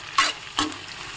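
Sliced onions and curry leaves hit a hot pan, giving two quick sizzling bursts, close and fairly loud, followed by a low steady frying hiss.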